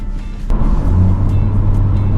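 An unregistered car driving along a road near Edmonton, Alberta, a loud steady low rumble of engine and tyres that swells after a brief quieter start, close and continuous with no talk.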